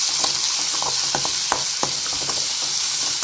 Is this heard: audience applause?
no